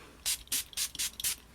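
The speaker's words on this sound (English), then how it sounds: "this can actually be used as a setting spray, and that's what I'm using today as a setting spray" Rose water setting spray misted onto a face in a series of five quick, close hissing spritzes, evenly spaced and bright, with quiet pauses between them.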